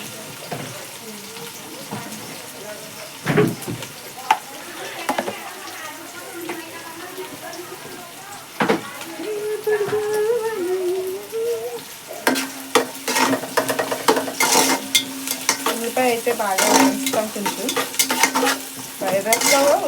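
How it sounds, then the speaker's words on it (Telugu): Boiled eggs being stir-fried for fried rice, with intermittent sizzling and stirring scrapes that grow busier and louder toward the end, heard at close range along with some voice in the background. "ఈ రెండు ఎగ్స్ ఫ్రైడ్ రైస్ చేస్తాను"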